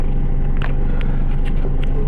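A car passes close by during a roadside police stop, making a loud, continuous low rumble of road and engine noise that fills the whole moment.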